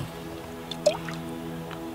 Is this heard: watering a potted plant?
yes